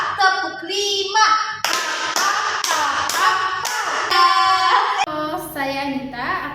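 Hand claps from children in a classroom ice-breaking clapping game: about five crisp, closely spaced claps in a steady rhythm, with a voice calling out before and after.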